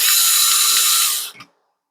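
Power screwdriver or drill backing a screw out of a Dyson V-series vacuum motorbar, a steady whirring buzz for over a second that cuts off with a brief ratcheting rattle at the end, close and alone.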